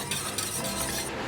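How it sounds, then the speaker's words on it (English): A whisk stirs a sauce in a pan to thicken it, a continuous close scraping and swishing with quick rhythmic strokes, brief and steady. "Whisk this in and thicken it to your liking."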